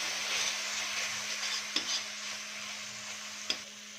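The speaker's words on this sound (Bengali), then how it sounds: "এই মশলাটাকে আমি ভালো করে মিক্স করে নেব" Spice mixture for a fish recipe being stirred in a hot pan, a soft scraping swish over a faint sizzle, with two sharp utensil taps against the pan, close and without speech.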